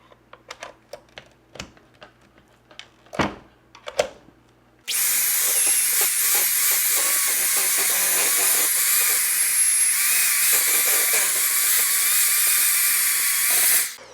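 A few scattered clicks and taps lead into a loud, continuous whirring roar as an electric mixer beats cheesecake batter, running steadily for about nine seconds before cutting off.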